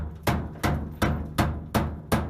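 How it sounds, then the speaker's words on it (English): Six sharp, evenly spaced claw hammer strikes on metal of a 1969 Chevrolet C10, each a bright ringing clang with a short decay, in a steady rhythm with no talking. "Good old claw hammer."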